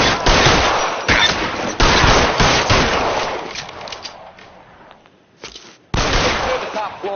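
Video game gunfire crackles in loud automatic bursts separated by short pauses, close and dense, with a brief lull before a final burst.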